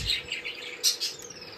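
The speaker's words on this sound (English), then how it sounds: "This is Ernie, one of my African doves." An African dove in an indoor bird room gives a few soft, brief calls, fairly close, with faint chirping from other caged birds around it and no talk.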